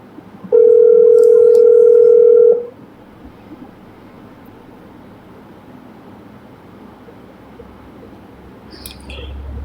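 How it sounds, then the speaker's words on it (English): An unanswered phone call produces one loud, steady ringing tone of about two seconds. A faint, quiet background hiss follows. "You must not make the phone ring and you don't answer it."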